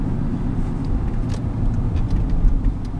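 A used car on a test drive rolls along an icy road, producing a steady low engine and road rumble heard from inside the cabin, with faint ticking and no talk.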